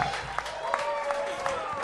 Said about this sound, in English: the crowd's going crazy for William Montgomery